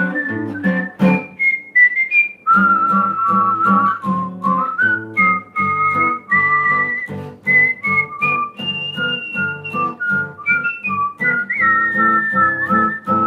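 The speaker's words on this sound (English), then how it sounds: "I'll whistle some gladness to you." Someone whistles a cheerful tune alone, the melody loud and close, phrase after phrase with short breaths between.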